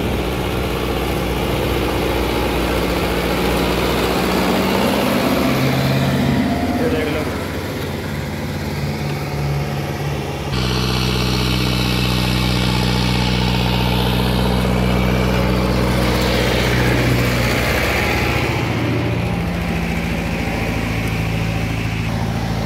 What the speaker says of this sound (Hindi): ये जो है ट्रैक्टर चल रहा है